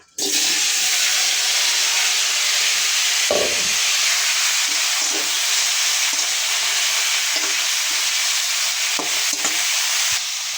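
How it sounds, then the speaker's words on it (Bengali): Yellow cauliflower and potato frying in hot oil, a loud, dense and continuous sizzle close by, broken by a few scrapes and knocks of a spoon in the pan. "তেলে ফুলকপিটা আলুটা ভেজে নিচ্ছি।"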